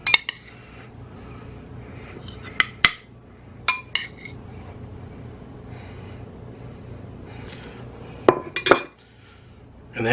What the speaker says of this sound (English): Mix that butter all around